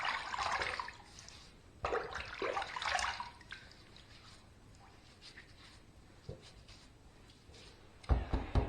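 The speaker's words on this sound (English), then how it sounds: "I'm going to take a little bit of this hot water that was on this puck. I'm going to dump it in there." Hot water from a shaving puck is poured into a bowl, a few short splashy pours and trickles, close and fairly quiet, separated by near-silent gaps, with another splash at the end.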